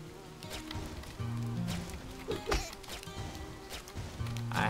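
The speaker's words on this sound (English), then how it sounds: "There's actual bees flowing around." Cartoonish bees buzz around in the video game Ittle Dew 2, a wavering insect drone layered over game music and scattered hit sounds, fairly quiet throughout.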